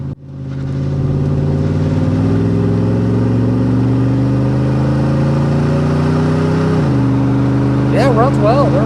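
A 2001 Dodge Dakota R/T pickup's 5.9 engine revs loudly and climbs steadily in pitch as it accelerates, then drops briefly as it shifts gear and keeps pulling.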